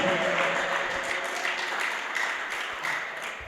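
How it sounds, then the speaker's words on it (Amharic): A church congregation breaks into dense, sustained applause that fills the room and tapers off at the end. "ለዚህ ጌታ ጭብጨባ ይሁን"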